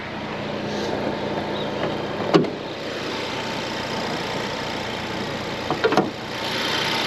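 A Ford Focus RS mk3 with a 2.3 litre turbocharged engine idles steadily and evenly in the open engine bay, a low hum holding throughout with a couple of brief knocks or clicks nearby.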